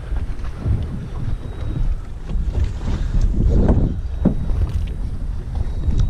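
Boat engines run on a fishing boat out after blackfish (tautog), a steady low rumble with wind buffeting the microphone and water noise, loud and close throughout.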